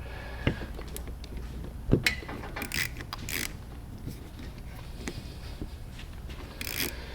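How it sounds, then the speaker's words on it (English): Saker ratchet from a 42-piece set driving a screw down into a piece of wood, giving a run of small scattered clicks and ratcheting ticks at close range, with no talk. "Put it in the tightening ratchet side."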